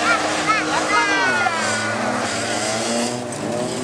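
Race cars in a heat at Hästveda, including a large BMW, engines revving and whining in rising and falling sweeps under a commentator talking.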